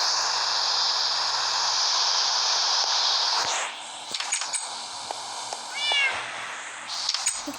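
A cat in the Minecraft video game lets out a sustained meow, followed by a few short clicks and a brief, rising chirp-like call, over a steady hiss, with no speech.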